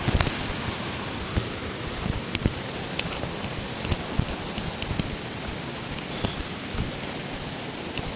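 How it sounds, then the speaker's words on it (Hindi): Water rushes steadily at the Grata Abshar waterfall in Azad Kashmir. The roar is dense and noise-like, with faint scattered splashes, and continues unbroken for the whole stretch without any voices. "ये आप देख सकते हैं कितनी स्पीड से जो है ना पानी आ रहा है।"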